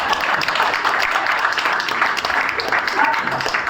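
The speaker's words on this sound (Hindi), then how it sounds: "तालियां रुकनी नहीं चाहिए।" Theatre festival audience applauding continuously, a dense steady wash of clapping from a large crowd with a voice faintly mixed in.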